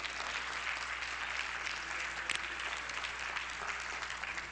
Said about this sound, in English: give the Lord a rousing applause